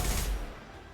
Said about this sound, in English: So he's shooting me from behind.